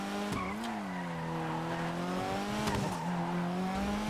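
Racing video game car braking and sliding through a corner, a steady engine drone bending in pitch with tyre squeal and skid noise, loud and continuous with no talk.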